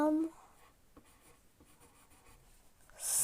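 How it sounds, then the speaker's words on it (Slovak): A pen scratches across paper while signing a document, faint and close, with soft scribbling strokes between louder sounds at the start and end. "Takže už iba tam podpíšeme."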